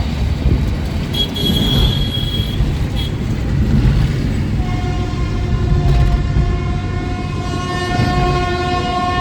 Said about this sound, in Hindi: ये स्टेशन है हमारा बनारस वाराणसी जंक्शन